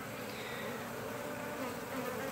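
Honeybees hum at their hive in a dense, continuous buzz, soft but steady, with many insects droning together close by and no talking.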